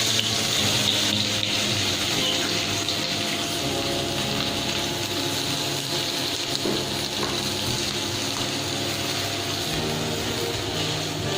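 Onions dropped into oil in a pan fry with a loud, steady, dense hiss that carries unbroken throughout, with no voices.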